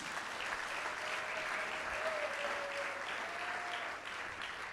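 A congregation at a church sermon applauding steadily, a dense, even wash of clapping from many hands that carries on without pause throughout, with a faint voice or tone over it.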